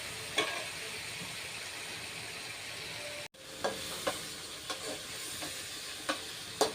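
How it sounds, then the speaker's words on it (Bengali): Chopped onions fry lightly in a pan for a beef tripe dish, a continuous even sizzle punctuated by occasional soft clicks and stirring taps, steady and close. "পেঁয়াজ কুচিটা একটু হালকা করে ভেজে নিব।"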